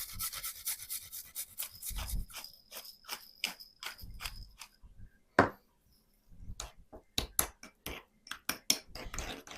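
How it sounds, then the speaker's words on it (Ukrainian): Garlic rubbed on a grater into sour cream for a sauce, a quiet series of short scraping strokes in an irregular rhythm, close up, with a few clicks and pauses between. "До сметани натираю часник і посилю поперчу."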